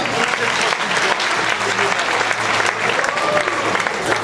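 Loud, sustained applause from a crowd at a bodybuilding competition, dense clapping throughout with a few voices mixed in beneath it.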